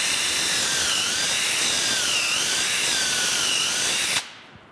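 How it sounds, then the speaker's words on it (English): A power drill with a drill guide bores a dowel hole in wood: one continuous, loud, close whine with a wavering pitch for about four seconds, then it cuts off sharply and winds down. "we want to make sure to only drill half the distance of the dowel"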